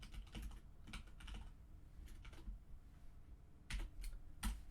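Quiet typing on a computer keyboard while entering a formula into a spreadsheet, with soft scattered key clicks and a few quicker bursts of keystrokes, no voices.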